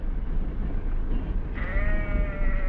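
A sheep bleats once in the second half, a drawn-out wavering call over steady low rumble, like a passing vehicle.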